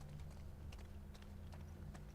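Horse hooves clip-clopping steadily in The Last of Us Part 2, a quick even rhythm under a low ambient hum, close and moderately loud with no talk.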